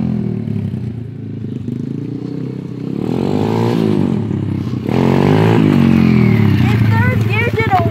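A modified SSR125 motorcycle accelerating through a wheelie in third gear: a loud, continuous engine drone that rises and swells in pitch several times, close and steady, with rushing noise over it.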